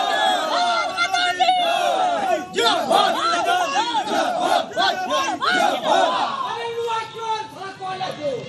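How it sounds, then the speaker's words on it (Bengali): Protesters outside a police station chanting a 'thief' slogan at an arrested Trinamool leader, loud rhythmic bursts of many shouting voices repeating in waves, close and raucous, with crowd chatter between the chants. "থানার সামনে ডিম হাতে চোর স্লোগান"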